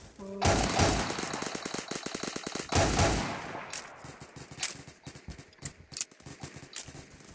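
Rapid automatic gunfire from a video game weapon, loud dense bursts of shots over the first few seconds, then thinning into scattered shots and clatter.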